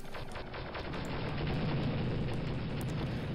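Dark Trooper's assault cannon firing in the Star Wars: Dark Forces video game, a dense roar of overlapping explosive booms and blasts that builds and stays loud and continuous throughout.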